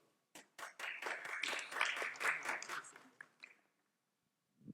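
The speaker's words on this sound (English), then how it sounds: "So please give a round of applause for two of the moderators of us." A conference audience at a gastroenterology meeting gives the moderators a modest round of applause: scattered claps swell into brisk clapping, then thin out to a few stragglers and silence.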